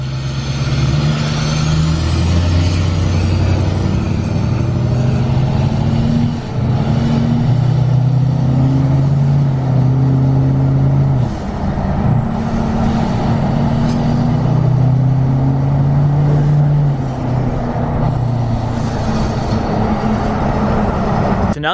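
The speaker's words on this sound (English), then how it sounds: "get you guys a sound clip of what it sounds like with the stock intake horn on there" Truck engine running with its stock intake horn, a loud continuous low rumble with wavering tones and a rising and falling faint whistle on top, held steady close by.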